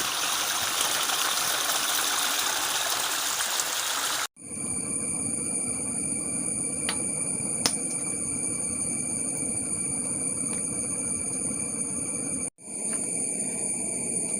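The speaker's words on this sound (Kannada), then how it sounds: "ಇವಾಗ ಈ ಪುನರ್ಪುಳಿ ಎಲೆಗಳನ್ನು ನಾವು ನೀರು ಹಾಕಿ ಚೆನ್ನಾಗಿ ತೊಳ್ಕೊಳ್ಬೇಕು" Kokum leaves are washed in water in a village kitchen, with a steady close rush of running, splashing water that continues alone, broken by two brief pauses and a few small knocks.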